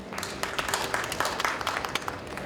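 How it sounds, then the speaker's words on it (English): An audience at a startup talk applauding, a loose patter of scattered hand claps that stays moderate and even for a couple of seconds. "Please clap if any of those resonate with you."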